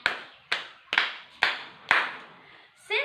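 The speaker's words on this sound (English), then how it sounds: "we all deserve 5 claps for everyone" A class claps together five times in a slow, even rhythm, each sharp clap ringing out in a quiet room before a voice speaks at the end.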